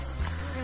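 A brief, steady buzz of a cluster of bees left behind at a bee trap site, close and continuous for under a second.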